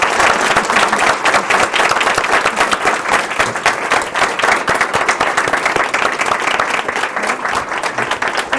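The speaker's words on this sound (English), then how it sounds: "Please join me in giving a round of applause to Representative Hsiao" Sustained audience applause for Representative Bi-khim Hsiao after a conversation on US-Taiwan relations, dense and loud, many hands clapping steadily for several seconds without pause.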